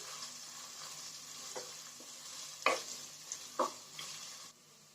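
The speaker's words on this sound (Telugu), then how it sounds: "ఉల్లిపాయలు గోల్డెన్ కలర్ వచ్చేంత వరకు ఫ్రై చేసుకుందాం." Green chillies and onion pieces frying in oil until golden, a quiet steady sizzle broken by a few sharp spatula knocks against the pan near the end.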